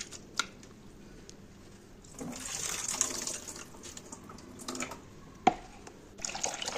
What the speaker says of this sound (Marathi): सर्वात आधी आपण कोबीला धुवून घेऊ।